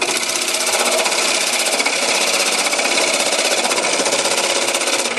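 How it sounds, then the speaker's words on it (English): A woodturning tool cuts across the bottom of a spinning bowl on a lathe, producing a loud, continuous buzzing chatter that holds steady throughout with no talking. "I'm going to make cuts. These are all cuts."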